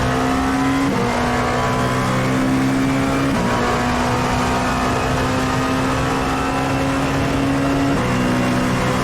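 A Dallara P217 prototype race car in iRacing roars around Suzuka in a loud, steady, high-pitched engine drone, broken by a few quick gear shifts with no one talking.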